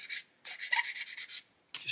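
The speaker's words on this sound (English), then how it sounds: "Give it a very light sanding," Light sanding of a plastic scale model kit part, a 1/35 Das Werk 8.8cm Flak on a 9t VOMAG truck: close, dry raspy strokes in a steady back-and-forth rhythm of about five passes, then a pause and another stroke starting.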